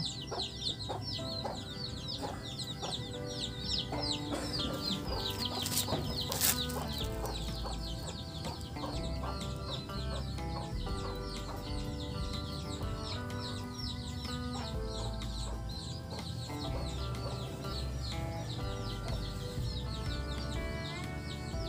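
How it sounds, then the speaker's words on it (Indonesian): Chickens cluck and call continuously at a moderate distance, with a rooster-like cry standing out now and then, forming a steady farmyard backdrop with no talk. "Ayam."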